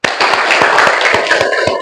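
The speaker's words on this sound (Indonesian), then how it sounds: "beri tepuk tangan untuk kita semua." A classroom of students claps together, loud and close, a continuous roar of hands with distinct sharp claps standing out at a roughly steady beat across the short burst.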